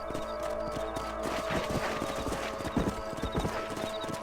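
Horse hooves clip-clopping steadily in the Red Dead Redemption video game, a close, even trotting rhythm over a low ambient bed, with a faint whinny.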